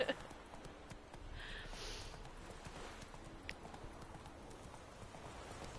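Roach, a horse in The Witcher 3 video game, moves with steady, fairly faint hoof clip-clops under game ambience, with a brief higher tone partway through.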